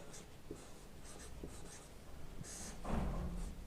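A pen scratches across paper during a maths practice lesson, with soft, intermittent strokes over a faint background hiss, close by and quiet.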